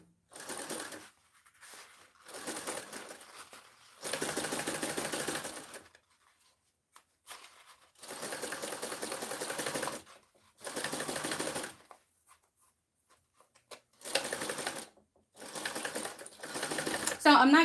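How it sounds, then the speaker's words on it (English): A sewing machine stitches a quarter-inch seam on a handmade bag in repeated bursts of rapid whirring, each lasting one to two seconds, separated by short pauses, close and fairly loud. "I'm sewing this at a 1/4 of an inch seam allowance."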